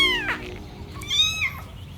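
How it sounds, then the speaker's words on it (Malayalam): A cat gives two clear meows close by, a short one and then a longer rising and falling one, with a faint background hum and no talking. "വഴിയിലെങ്ങാണ്ടോ കിടന്നിരുന്ന പൂച്ചയാ."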